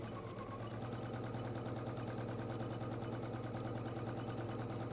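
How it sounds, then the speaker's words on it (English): A sewing machine runs steadily for the whole stretch, top stitching around a ribbon flap to hold it down in place. Its close, even motor whir carries a fast, regular needle chatter with no pauses. "I'm going to start here, and I'm going to top stitch"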